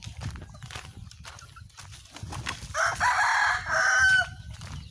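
A native rooster on a free-range chicken farm gives one loud, drawn-out crow partway through, with clucking and farmyard noise before and after it.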